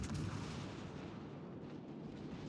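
A warship's cannon fires in World of Warships Legends, a single heavy boom at the start that rolls off into a long fading rumble.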